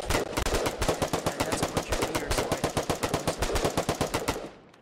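Video game automatic gunfire fires at a blueprint target in one long, rapid, evenly spaced burst of loud shots that cuts off at the end.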